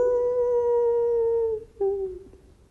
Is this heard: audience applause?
no